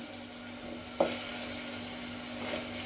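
A spice tempering for a cluster-bean stir-fry sizzles in hot oil in a pan, a steady soft hiss with one brief clink partway through.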